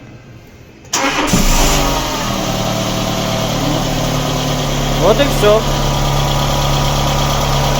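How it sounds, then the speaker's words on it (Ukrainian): A fully cold Dacia Logan 1.4 engine, after cylinder head repair and valve clearance adjustment, cranks and catches with a sudden roar, settles into a steady idle, and briefly revs; a voice speaks over it. "робимо перший пуск, двигун повністю холодний"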